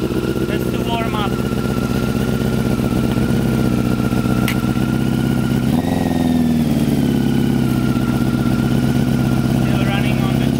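A new motorcycle engine idles on the choke, a steady low running drone that holds through the whole stretch with a slight shift in pitch partway, while people talk over it.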